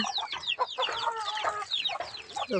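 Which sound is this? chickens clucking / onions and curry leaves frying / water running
chickens clucking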